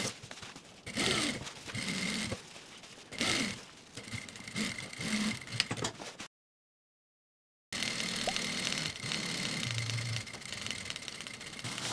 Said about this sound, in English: I'm going to run a top stitch along this center back seam at 1/4 of an inch.